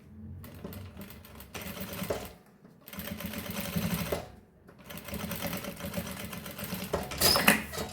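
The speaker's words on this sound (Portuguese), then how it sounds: "vou passar uma costura aqui. Bem na pontinha." Sewing machine stitching a seam along the edge of fabric for a baby's zippered pouch, running in several steady bursts separated by short pauses, close and clear with no talking.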